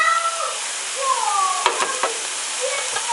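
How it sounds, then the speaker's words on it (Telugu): Onions and green chillies frying in a pan give a steady, close sizzle throughout, with a few sharper stirring scrapes near the middle and no voices. "రెంటిని కలిపి బాగా వేయించుకోవాలి"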